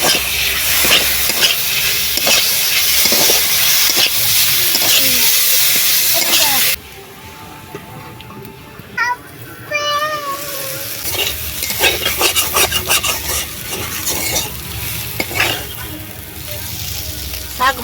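Crab roe and fat, onion paste and slit green chillies sizzle and hiss in a hot pan while being stirred, loud and steady at first, then quieter scraping and spluttering with brief talk in between.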